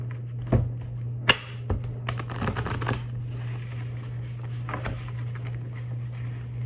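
Tarot cards are shuffled close by in a quiet room, with a few sharp slaps and riffles early on and then softer sliding, over a faint steady hum.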